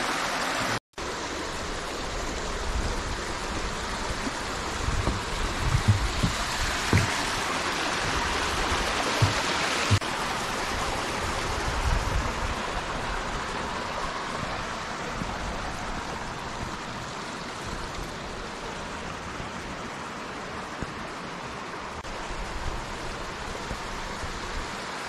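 Heart Creek, a clear mountain creek along a trail near Canmore, Alberta, rushing in a steady broadband wash of flowing water, close and continuous with no voices.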